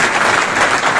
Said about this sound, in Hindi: तो एक बार अपने लिए ताली बजा लीजिए।